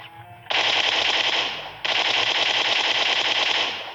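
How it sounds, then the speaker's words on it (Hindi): Rapid automatic gunfire rattles in a battle royale game at Pochinki, loud and close, with two long sustained bursts separated by a brief break. "इस बंदे ने सबसे पहले तो हमको बहुत फायर दिया टैप टैप करके"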